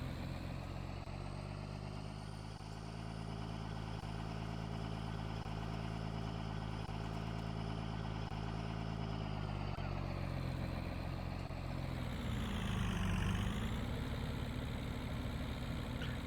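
A heavy truck engine in Farming Simulator 19 idles with a rough, uneven, misfiring rumble, then revs up and drops back down near the end.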